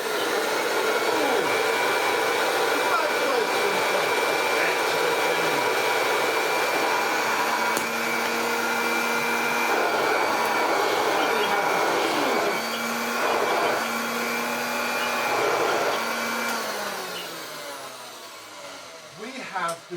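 A Hoover Junior 375 upright vacuum cleaner, under mild repair, runs steadily with a loud whining motor drone and rushing airflow for the whole stretch, then begins to wind down near the end.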